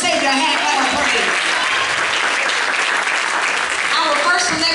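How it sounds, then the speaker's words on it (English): A gospel concert congregation claps its hands in praise, loud sustained applause from a large crowd in a church setting, with voices mixed in throughout. "give our Lord and Savior a hand clap of praise"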